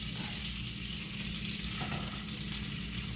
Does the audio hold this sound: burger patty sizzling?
yes